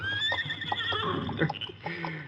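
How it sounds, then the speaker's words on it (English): A horse whinnies and neighs in an old western radio drama, a loud close call with a shaky, rising-and-falling pitch, with a few hoof clops sounding faintly underneath. "Seems like your horse is coming to kiss you goodbye."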